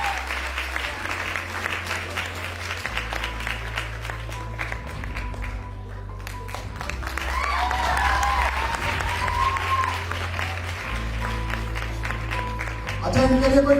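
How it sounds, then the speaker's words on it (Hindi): An audience at an International Women's Day celebration claps steadily, swelling louder toward the end, over a thumping music bed with some speech. "ताली तो बजा दो अच्छे वाली।"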